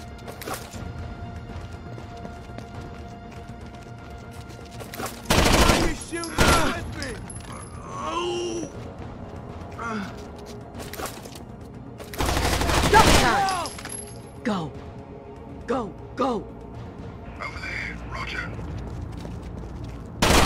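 Gunfire in the video game Rainbow Six Vegas 2: two loud, dense bursts of shooting about seven seconds apart, with scattered sharper shots, crashes and radio-style voices in between over steady game ambience.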